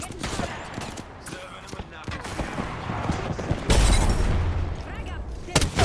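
Gunfire in Apex Legends, rapid bursts of shots cracking throughout a close, busy firefight, with heavier booms near the end and a voice talking over the shooting.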